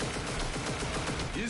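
Rapid gunfire in an online shooter video game, a fast dense rattle of shots running through the whole short moment, with a player's voice talking over it.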